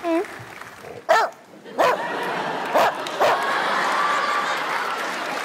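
A person imitates a dog, giving several short yapping barks spaced a second apart, followed by murmuring and laughter from others.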